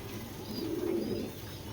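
Racer pigeons give a soft, low coo that swells and fades once over a short stretch, close by with a faint background hum.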